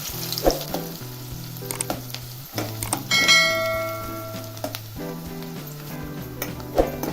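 Chopped onion hitting hot oil already crackling with mustard seeds and cumin, giving a loud, steady sizzle with sharp pops and occasional ringing clinks of a metal utensil against the pot.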